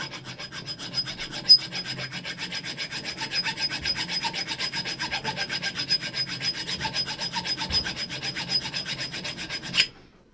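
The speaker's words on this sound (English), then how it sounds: "So I'm just going to keep filing it until it's flat" A hand file rasps steadily across a motorcycle crankshaft key to flatten it, close and continuous strokes for about ten seconds before stopping abruptly.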